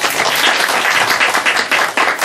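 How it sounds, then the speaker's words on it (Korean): A church congregation applauds during an afternoon sermon, dense continuous clapping from many hands, loud and close, filling the whole moment without talk. "박수 한번 해주세요."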